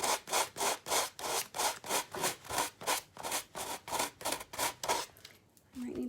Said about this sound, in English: And I like to sand it. I don't want to tear any of it because then it just goes right to the edge.